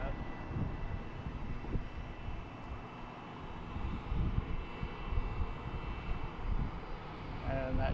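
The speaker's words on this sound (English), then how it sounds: "that jet that I showed you a few minutes ago is also taxiing out to the runway to take off" Jet aircraft taxiing toward the runway at Harrisburg's MDT airport on a Saturday morning, a steady broadband engine rumble with wind buffeting the microphone, continuous and moderately loud throughout.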